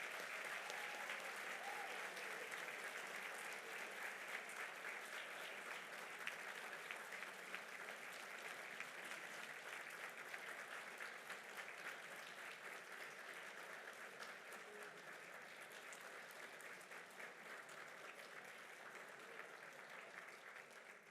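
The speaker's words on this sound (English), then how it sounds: "Please join me in one more round of applause for our Engineering Hall of Fame alumni." Sustained audience applause fills an auditorium at a 2024 College of Engineering alumni awards ceremony honouring Hall of Fame alumni, dense and steady for about twenty seconds without pause.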